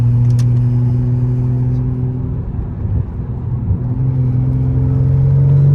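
A BMW 540i engine holds a steady, loud drone with a slight dip midway, then climbs again; a raspy exhaust tone runs under a low rumble.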